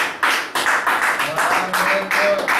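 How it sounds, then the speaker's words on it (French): A church congregation claps for the prophet in a quick, steady rhythm of sharp claps lasting a couple of seconds, with voices mixed underneath. "Acclamation pour le prophète."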